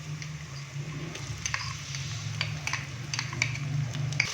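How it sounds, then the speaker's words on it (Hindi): Ginger garlic paste frying with lightly browned onions in a pan: a quiet, steady low sizzle with occasional light clicks from stirring, and no voices. "अदरक और लहसुन के पेस्ट को हल्का सा फ्राई करेंगे।"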